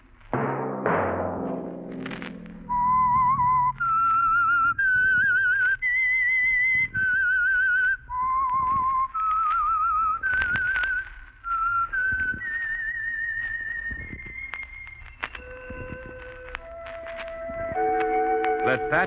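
A lone human whistler carries the theme melody for The Whistler radio show, clear sustained notes rising and falling with short gaps between phrases, close and unaccompanied.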